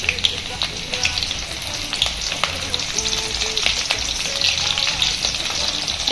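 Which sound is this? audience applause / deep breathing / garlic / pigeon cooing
garlic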